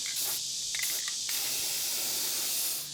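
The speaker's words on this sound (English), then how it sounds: "I now want to spray up on this third coat so I get it in from underneath." A sprayer applies a third coat of sealant to the roof of a 2006 Fleetwood motorhome. It makes a steady close hiss that runs almost the whole time, with a few brief breaks near the start.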